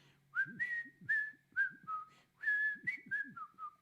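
Someone whistles the solo melody in a series of short, bright, gliding notes with little pauses between them. Soft low plucks sound underneath, and the whistling is faint and close.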